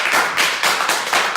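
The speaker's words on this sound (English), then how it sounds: "please give him a round of applause" An audience at a Nigerian fundraising event breaks into a round of applause, dense clapping that swells and dips in waves through the short stretch, fairly close and loud, with no talk over it.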